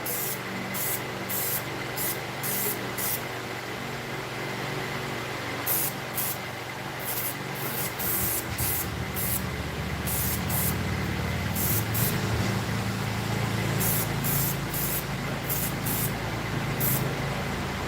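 Ceramic-coating paint rated to 600 degrees being sprayed in a home shop during a mower repower, heard as a series of short, repeated hissing bursts over a steady background hum.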